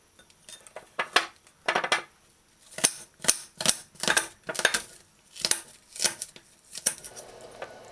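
Sharp clicks and scrapes of a knife cutting food held in the hand without a chopping board, an irregular series of quick strokes, close up against a quiet background.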